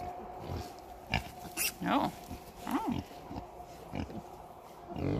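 A pig on a farm gives several close, nasal grunts and squeals at irregular intervals, with a person talking briefly and steady outdoor background noise.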